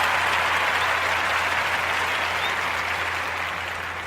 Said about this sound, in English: Clap it up, y'all. Clap it up.